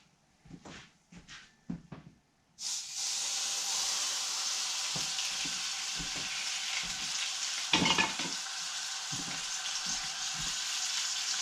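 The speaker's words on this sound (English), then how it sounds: "now that we got the oil good and hot, I'm going to set that bad boy in there." A whole gutted pond-caught fish laid into hot oil in a pan: a few soft knocks, then a loud, sudden sizzle that bursts up and holds as a dense, steady crackle, swelling briefly midway.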